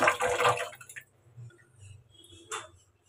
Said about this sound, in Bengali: বেসিনে না ধুয়ে এখানে মুখ ধুচ্ছি।